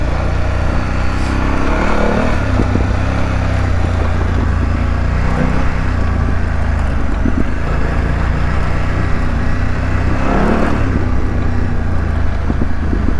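A 2025 BMW F900GS motorcycle ridden on an off-pavement mountain road, its engine droning steadily with wind rush and rises in revs as gears change.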